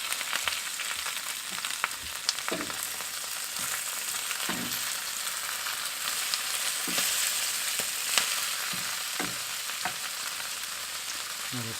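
Sag aloo sizzling and frying in a pan on a narrowboat kitchen stove over low heat as spinach goes in, a steady close hiss broken by soft stirring clatters throughout, with no talk.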